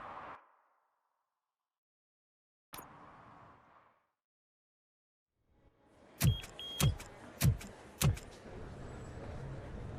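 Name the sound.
car in video game RoboCop Rogue City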